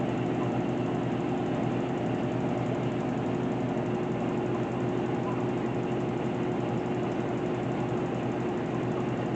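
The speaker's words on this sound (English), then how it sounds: "I hope you guys enjoy this spin process, because sometimes this washer can spin for a long time." A GE washing machine on a normal cycle in its spin phase, giving off a steady, droning whir with a constant tone and vibration, heard alone at moderate volume throughout.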